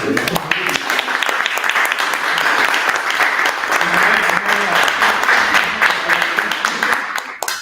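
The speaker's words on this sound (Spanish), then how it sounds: "Un aplauso." An audience at a Spanish-language book presentation applauds steadily for several seconds, the dense clapping close and loud before tapering off at the end, with some voices mixed in.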